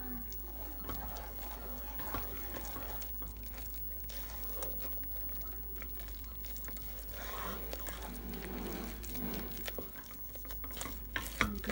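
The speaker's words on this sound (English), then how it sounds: "Continue to stir until it forms a ball of dough." Churros dough being stirred in a pan after flour goes in, a steady scraping and stirring with soft sizzling and wet mixing sounds throughout, close and continuous with no talking.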